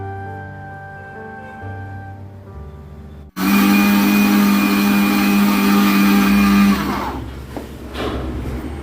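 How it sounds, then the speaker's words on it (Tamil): A mixer grinder grinds soaked rice into flour at home, starting abruptly with a loud steady whine and roar that holds for a few seconds, then winds down and shifts in pitch. "இந்த மாவு அரைக்கிறதுக்குள்ள போதும் ஆயிடுதுங்க"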